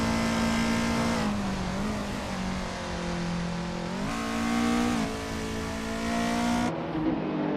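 A 2011 Volkswagen Scirocco R Cup racing car's engine drones loud and steady, its pitch rising and dipping through gear changes and revs, with a brief tire squeal and no voices.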